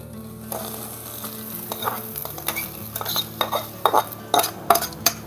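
Cooked flat beans (ghevda) scooped out of a pan onto a plate over a small stove, with scraping spoon clinks and metal knocks growing louder toward the end over a faint sizzle.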